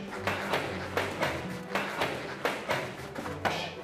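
Punches land on boxing focus mitts in a quick, regular series of about eight sharp pops, close and loud over a steady background.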